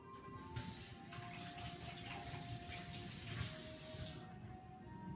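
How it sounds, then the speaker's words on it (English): Tap water running steadily into a kitchen sink as hands are washed while cooking escarole with beans, a soft continuous hiss and splash heard close and alone. "let me wash my hand"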